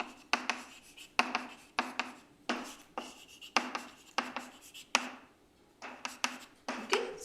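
A lecturer writes on a board with a string of quick chalk strokes and taps in short bursts with pauses between them, close and fairly quiet.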